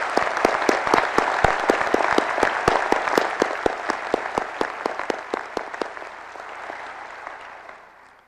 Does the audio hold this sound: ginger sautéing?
no